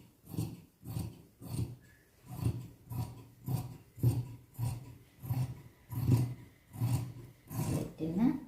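Scissors cutting churidar lining fabric, about a dozen regular rasping snips in a steady rhythm, close and fairly soft, without talk.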